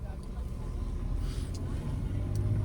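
A car in first gear speeding up during a driving lesson, a low steady engine rumble that rises slightly, heard from inside the cabin under faint background noise.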